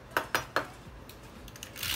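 A knife chopping through celery stalks on a cutting board for celery juice, three sharp evenly spaced cuts close by in quick succession, followed by quieter rustling and a soft scrape.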